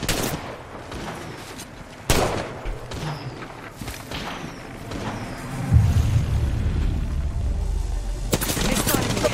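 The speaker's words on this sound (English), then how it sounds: "They spotted me. I'm taking shots." Gunfire rings out in a battle royale video game match, sharp bursts and shots scattered across a busy, continuous background of in-game noise, with heavier impacts later on.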